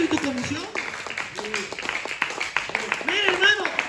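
A church congregation at Ministerios de Restauración in San Jose claps in quick, irregular bursts beneath a man who keeps preaching loudly over the applause.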